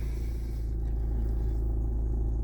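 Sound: Peugeot 308 1.6 HDI engine starting and idling

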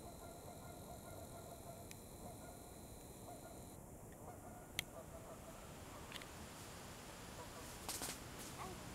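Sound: flock of geese honking at a stone quarry

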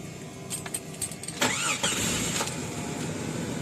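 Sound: 2000 Jeep Cherokee XJ engine starting

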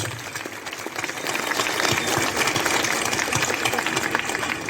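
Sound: audience applause at a political rally

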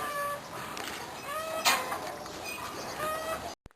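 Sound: chickens clucking

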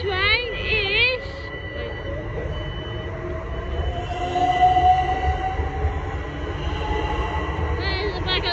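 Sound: train passing

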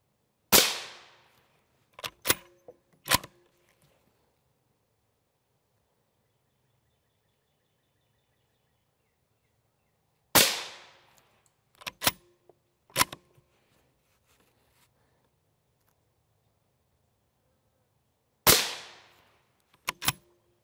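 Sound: 5.56 rifle shots hitting Tacticon Level III+ steel armor

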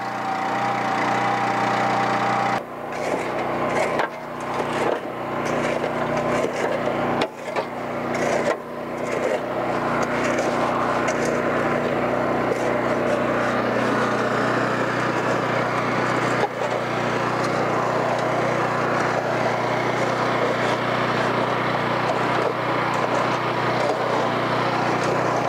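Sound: engine running on machine with conveyor

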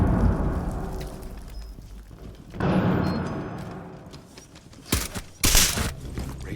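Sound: gunfire in video game Rainbow Six Siege

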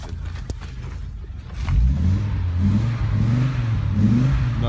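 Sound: Audi Ur Quattro 10v engine starting and revving

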